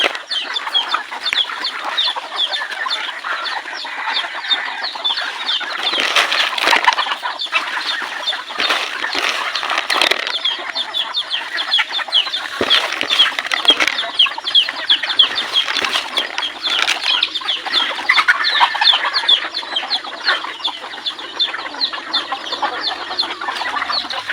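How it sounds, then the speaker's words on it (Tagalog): Red junglefowl breeder rooster and chickens kept in pens on a rainy day, clucking and calling continuously at close range, with occasional wing flaps. "Yan pala yung pinalpasan kong breeder natin labuyo"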